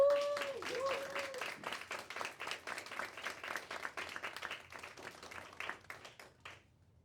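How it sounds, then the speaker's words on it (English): An audience at a youth power-building community event applauds a speaker named Jen, a dense run of many hands clapping that fades out over several seconds, with a brief whistle-like tone near the start. "One more round of applause for Jen."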